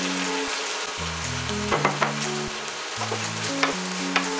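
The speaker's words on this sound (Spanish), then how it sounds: "Es ahora cuando vamos a añadir el garbanzo frito" Fried chickpeas tipped into a sofrito in a pan, a dense close sizzle with scattered clicks and knocks of the spoon, set under soft background music with no talking.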